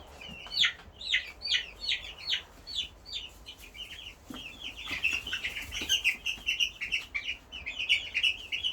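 Black Australorp chickens cluck and chatter close by, a busy run of repeated bright clucks that grows denser and more continuous toward the end.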